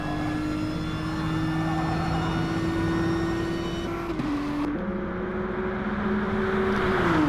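A Nissan touring car engine in an online racing game at the Monza circuit drones loudly and steadily at high revs, dipping briefly as it shifts gear before climbing again.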